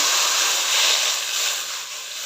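Water hits a hot pan of fried moong dal and erupts into a loud, continuous steamy hiss that stays strong throughout and eases slightly toward the end.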